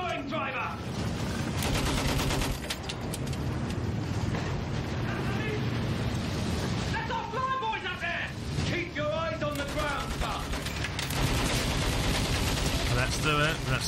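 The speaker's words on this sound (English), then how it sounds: "Use the MG, sweep the ground." Continuous machine gun fire from a Battlefield 1 World War I battle, dense and loud throughout, with bursts layered over explosions and battlefield noise while voices shout in the background.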